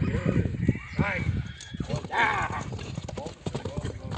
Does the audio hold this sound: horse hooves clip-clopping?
yes